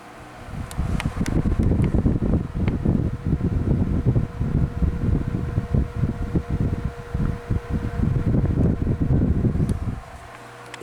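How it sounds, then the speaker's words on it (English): A Lasko 12-inch oscillating table fan, model 2150/3150, runs with a steady, close whooshing airflow that wavers slightly as it blows, starting just after the beginning and cutting off shortly before the end. "These are excellent fans. They are quiet pretty much on all three speeds, and they blow tons of air."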